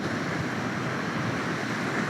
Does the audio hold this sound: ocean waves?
yes